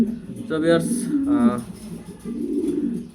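Colourful pigeons coo in a pigeon loft, their soft throaty calls repeating in short bursts while someone talks over them close to the microphone.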